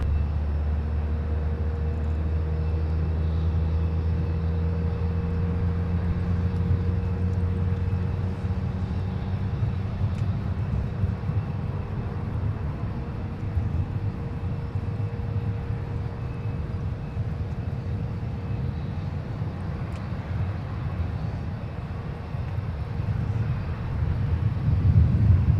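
Jet airliner taking off from runway 17 at Minneapolis–Saint Paul airport, a steady distant engine roar with low rumbling drone held evenly throughout, no voices.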